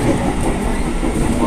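A Jakarta commuter train on the red line, heard from inside the carriage: a loud, steady rumble of wheels on rails with a faint rhythmic clack, continuous and close.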